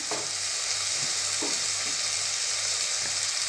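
Tomatoes being sautéed in a pan for egg biryani, a steady loud hissing sizzle that fills the whole stretch, with a few soft spatula scrapes underneath and no voices.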